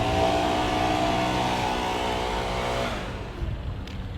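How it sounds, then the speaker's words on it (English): A leaf blower runs at a resort hotel walkway, a steady loud droning whine that holds for nearly three seconds before easing back into quieter outdoor background noise. "I'm gonna try to get away from the leaf blower."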